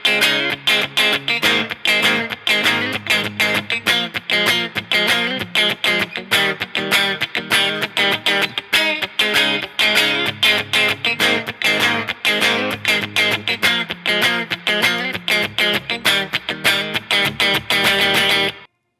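Guitar strumming the verse of a song, a steady, driving pattern of repeated chords that changes its strum near the end, loud and continuous with no talking.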